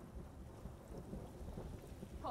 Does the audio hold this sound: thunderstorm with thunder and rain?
yes